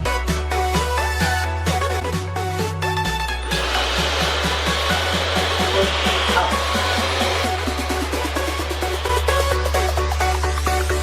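A Dyson hair dryer runs for the whole stretch, giving a steady, loud blowing rush with strong tonal humming and a brighter hiss that swells in the middle.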